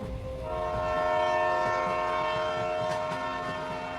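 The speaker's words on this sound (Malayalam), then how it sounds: "അസ്തമിക്കുന്ന സൂര്യന് കുറുകെ പക്ഷി പറന്നു പോകുന്നതിലും ഭംഗിയുണ്ട് ട്രെയിൻ പോകുന്നത് കാണാൻ" Train passing near mangrove backwaters at sunset, a sustained rumble of wagons on rails overlaid with a long tonal horn blast, loud and steady across the whole stretch, with no voices.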